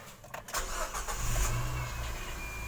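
Engine of a 2017 Nissan Grand Livina XV manual starting with the door open: a short cranking burst, then the engine catches and settles into a steady low idle.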